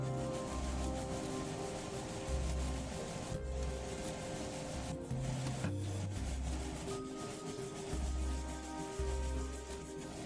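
A heavy-duty hand scrub brush works over a surface with soap, making steady, close rubbing and rasping strokes that repeat rhythmically under a low background hum and music-like tones.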